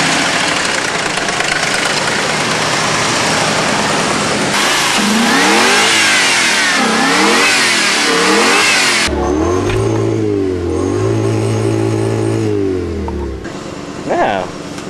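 A 1991 Infiniti Q45 engine revving hard toward 7500 rpm, rising and falling in repeated sweeping blips, then settling to a lower idle-like drone before one last blip, loud and close.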